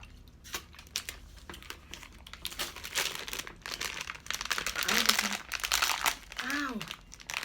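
A Twix candy wrapper is torn open and crinkled by hand, producing bursts of close plastic rustling and crunching that grow busier toward the end, with voices and exclamations mixed in.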